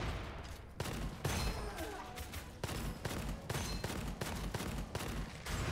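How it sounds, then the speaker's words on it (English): Rapid volleys of gunfire from the shooter game Gunfire Reborn, sharp repeated cracks spaced across the stretch with a dense, busy backdrop, with talk faintly present. "Ooh, I've been shot a couple times."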